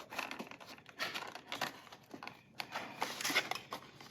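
A knife slicing open the packaging of a Harley-Davidson Sportster battery gives close, irregular bursts of crinkling and tearing plastic and cardboard, separated by short pauses.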